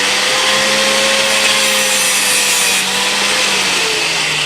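A pedal-driven turning machine spins a golf club ferrule against a small 1/16-inch blade, producing a loud, continuous whirring hum with a steady tone throughout, without speech.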